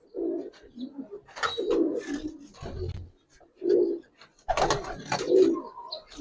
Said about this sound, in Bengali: একবারে সম্পূর্ণ পুরান জাতের সবুজ গলা কবুতর